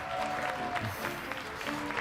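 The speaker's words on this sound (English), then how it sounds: "Ladies and gentlemen, a round of applause." An audience at an esports grand final for a Mobile Legends: Bang Bang tournament breaks into sustained applause, a dense wash of clapping filling the hall and continuing steadily throughout.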